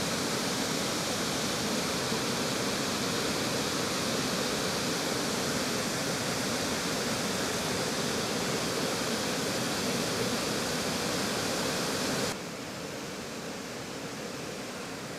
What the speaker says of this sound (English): I got my camera and we got the waterfall up there